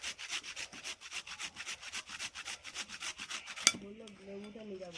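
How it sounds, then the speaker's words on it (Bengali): A medium-sized carrot rubbed against a kitchen grater in quick, steady rasping strokes, close and clear, with a sharp knock near the end before the scraping gives way to other kitchen handling. "আর একটা গাজর আমি ঘষে নিচ্ছি"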